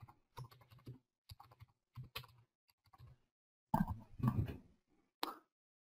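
Fast typing on a computer keyboard in short bursts of soft clicks, fairly quiet and close, with brief gaps between runs of keystrokes.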